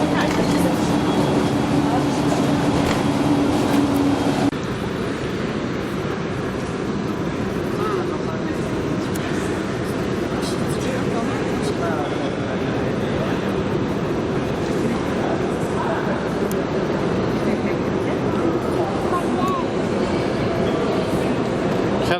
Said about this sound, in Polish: No i metrem tu jeździmy teraz sobie.